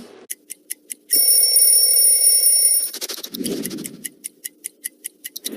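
A bell rings at a Baltimore Orioles vs Chicago White Sox baseball game after a home run: a sustained bright metallic ring for about two seconds, framed by a steady series of sharp, rapid ticking strikes.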